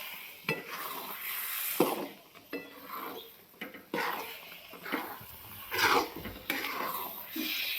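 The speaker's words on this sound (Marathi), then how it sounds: "डाळ शिजवून घेतली आणि आता पुरणाला झटका द्यायला चालू आहे माझा इकडं" Cooked lentils (dal) being stirred and mashed for a sweet puran filling, with repeated soft scraping and knocking of a spoon against the pot, close by and moderately loud in uneven bursts.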